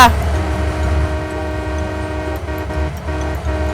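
A locomotive in Farming Simulator 19 runs steadily with a loud, continuous low engine rumble and sustained tonal drone, with brief dips and no break throughout.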